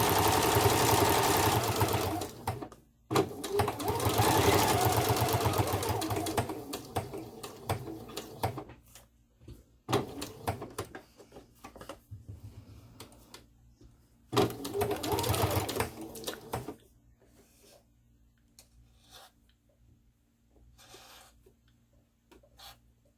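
A home sewing machine stitches a fabric belly band in loud, steady whirring runs, a long burst, a pause, then shorter bursts, before falling quiet to a faint low hum.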